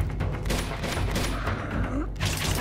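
Video game gunfire keeps up as a dense, steady barrage of shots that blur together, loud and continuous for a few seconds.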